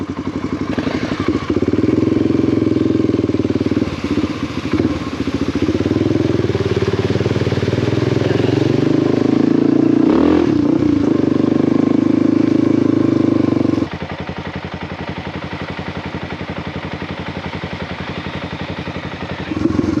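A 2020 Honda CRF250L Rally's single-cylinder 250 engine drones loud and steady while riding a dirt trail, its pitch shifting with throttle and dropping to a lower running note for the last few seconds.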